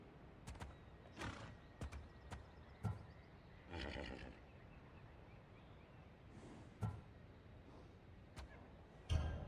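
Faint horse snorts and a distant whinny among scattered hoof clops and sharp clicks, over a quiet hum, in the video game Assassin's Creed Odyssey.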